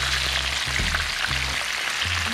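Fish frying in a pan with broadband hot-oil sizzle throughout, several low thumps as pieces are moved or flipped, close and steady.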